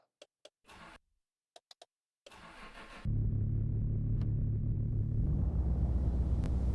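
Car engine cranking and firing up in the video game Mon Bazou, preceded by a few sharp clicks and a brief starter whir, then a steady loud idle rumble that holds to the end.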